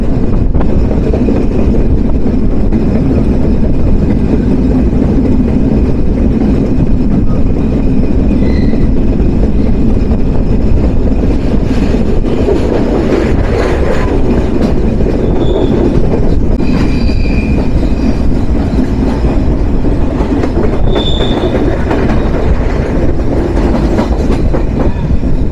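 Nilsagar Express intercity train running between Dhaka and Joypurhat, heard from on board as a loud, constant rumble with rhythmic clickety-clack of wheels over rail joints and occasional high wheel squeals, no talking.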